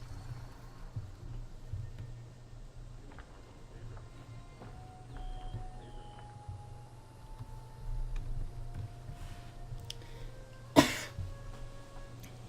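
A single cough sounds near the end, loud and close over a quiet background hum during a live Guild Wars 2 gameplay stream.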